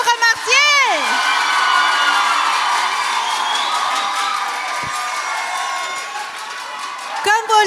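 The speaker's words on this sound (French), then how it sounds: "une autre main d'applaudissements pour lui, on peut le remercier" Crowd cheering, whoops and sustained applause from a large audience at a closing ceremony of an event in Sept-Îles, rising into a continuous roar; a short voice over a PA is briefly heard near the start.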